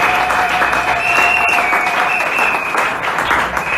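A church congregation at a Sunday service applauds steadily, a dense, loud wash of many clapping hands sustained throughout with a faint crowd murmur.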